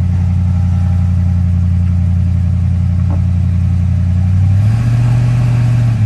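A car engine with a P0300 misfire code and failing coil packs runs steadily under load in gear, a loud continuous low hum that rises in pitch near the end as the revs climb.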